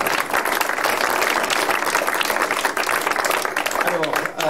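An audience at a French conference claps to welcome a guest speaker, a close, continuous patter of hands with a voice talking over it.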